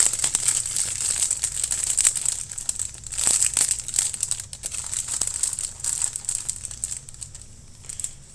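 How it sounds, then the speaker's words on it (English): Continuous close-up crinkling and rustling of a plastic parsley package being opened, busy and uneven, with no speech. "Open the package here."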